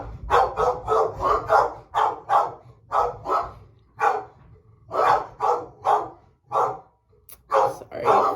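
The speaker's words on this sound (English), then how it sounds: "Sorry for the dogs barking." Dogs bark repeatedly in quick bursts and clusters, fairly close and moderately loud, with short gaps between volleys over a low background hum.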